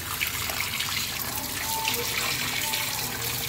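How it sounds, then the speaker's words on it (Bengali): Tap water runs steadily while chapila fish are rinsed, a continuous close splashing and trickling with no talk over it. "মাছগুলো ধোয়া হয়ে গিয়েছে"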